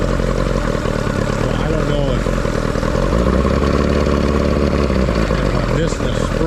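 A boat engine idles steadily and loudly up close, a continuous low mechanical rumble with some clatter, the throttle pushed back to idle, running without pause.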